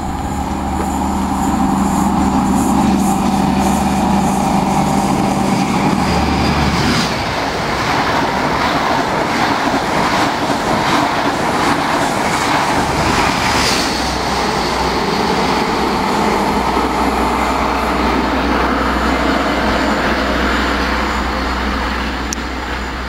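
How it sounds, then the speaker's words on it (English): A diesel HST (High Speed Train) bound for Nottingham roars past at speed, a loud sustained rush with rhythmic clatter and a low diesel drone, lasting over twenty seconds. "HST coming on its way to Nottingham."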